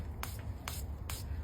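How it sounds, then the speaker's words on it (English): Perfume is sprayed onto paper in three short, crisp hissing bursts spaced evenly apart, close and fairly soft against a quiet background. "just spray that with your perfume"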